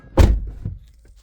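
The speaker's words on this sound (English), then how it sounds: "Let's close the door." A solid, close thunk of a 2010 Ford Mustang door slamming shut, followed by a softer knock and quiet settling.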